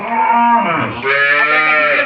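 A Friesian dairy cow moos in two long, loud, drawn-out calls, close by, with a brief dip between them and no other sounds.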